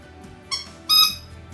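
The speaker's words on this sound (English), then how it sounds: "Why do you pick the squeaky one as soon as I open the camera?" A dog's squeaky toy gives two short, high squeaks, a brief chirp followed by a louder, longer squeal, close and alone against a quiet room.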